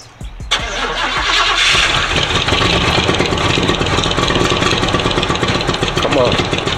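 A 1987 Oldsmobile Cutlass with a freshly cleaned carburetor cranks briefly and fires right up, then settles into a loud, steady idle close by that runs to the end.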